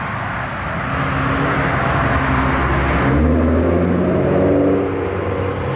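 A modified V6 car engine rumbles loudly and steadily, its low drone swelling as it pulls away from a car meet, with no voices.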